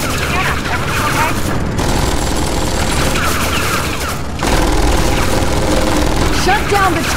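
Continuous turret gunfire and explosions roar through a firefight in the Tales from the Borderlands video game, a dense, loud barrage with bursts and booms that never lets up, with shouted voices mixed in.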